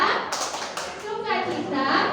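Small children in a Sunday school class perform the rhythmic 'tepuk sukacita' joy clap, bursts of hand claps mixed with kids' chanting voices, fairly close and lively.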